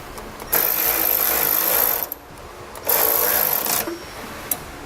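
A power socket tool with a 1/2-inch socket drives existing exhaust bolts back in under a 2016 Lincoln MKC during a trailer hitch installation. It gives two loud, close whirring bursts, the first about one and a half seconds long and the second about one second, with a brief pause between them.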